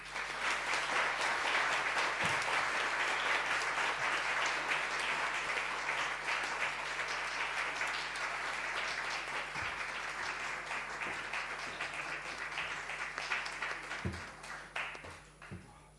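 Sustained audience applause after a design lecture at a university, an even, steady wash of many hands clapping that holds for the whole stretch and thins slightly near the end.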